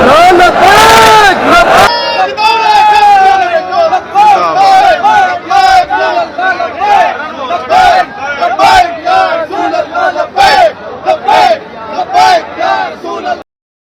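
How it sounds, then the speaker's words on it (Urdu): A large crowd of Tehreek-e-Labbaik Pakistan workers and malangs chants slogans in loud call-and-response bursts during the Urs at Data Darbar in Lahore, voices surging rhythmically over dense crowd noise. "داتا دربار کے عرس کے موقع پر جو ملنگوں نے اور ٹی ایل پی کے کارکنان نے جو نعرے لگائے ہیں"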